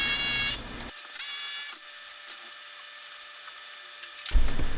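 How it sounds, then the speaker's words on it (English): A hammer drill bores holes into a concrete wall for anchors to hang a shop heater, a steady whining drone running for about three seconds between louder bursts of other noise at the start and end. "And there's the hammer drill."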